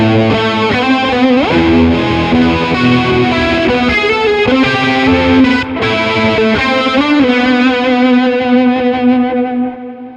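Electric guitar with distortion from a pedal into a clean Fillmore 50 amp, with chorus between them, rings out in sustained saturated notes with a shimmering modulated edge, loud and alone, fading at the end.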